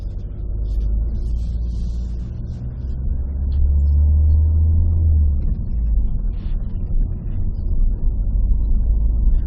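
A car drives along a residential road, heard from inside as a steady low engine and road rumble that swells briefly with acceleration before settling, with no talking.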